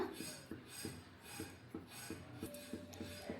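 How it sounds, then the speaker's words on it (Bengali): A cut shing catfish is rubbed by hand with salt to clean it, giving faint, repeated gritty scrapes in a steady rhythm of about three strokes per second. "এটাকে নুন দিয়ে একটু ঘষে নিলেই পরিষ্কার হয়ে যাবে"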